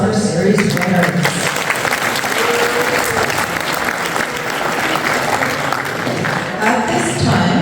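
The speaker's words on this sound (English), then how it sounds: "Let's give a big round of applause to all the summer series winners." A karting club banquet crowd applauds summer series winners, loud sustained clapping throughout with a few cheers and voices mixed into the din.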